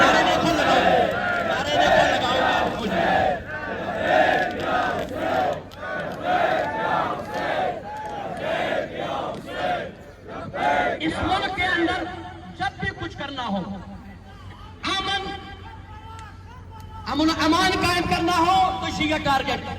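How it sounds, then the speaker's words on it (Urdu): A crowd at a memorial gathering chants slogans in loud rhythmic bursts, shouting in unison with pauses between calls and a leader's voice starting each round. "نعرے دیکھو لگاؤ، نعرے دیکھو لگاؤ"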